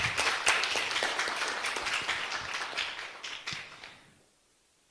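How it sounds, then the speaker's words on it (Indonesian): Audience applause closing a Dhamma class Q&A with Bhante Khemadiro, a steady room-wide clapping of many hands with a few sharper nearby claps, sustained for about four seconds then cutting off into silence. "Marilah bersama kita aplaus yang meriah"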